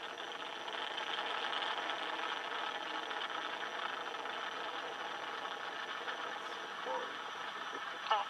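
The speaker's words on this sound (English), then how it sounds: "All 4 RS-25 engines on the core stage and 2 solid rocket boosters now propelling the vehicle at 128 miles per hour" The Artemis 1 SLS rocket lifts off on November 16, 2022, powered by four RS-25 core-stage engines and two solid rocket boosters. A faint, steady, broadband roar carries on continuously while a commentator talks over it.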